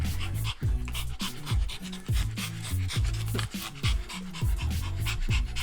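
Rapid, rhythmic dog panting up close during a car ride to the beach, quick heavy breaths repeating steadily with a low engine-like hum underneath.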